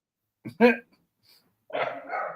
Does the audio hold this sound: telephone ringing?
no